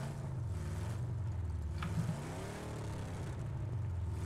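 A Chevrolet Impala's engine in a video game hums with a steady low rumble throughout, rising briefly as it revs near the middle, close and moderately loud with no talk.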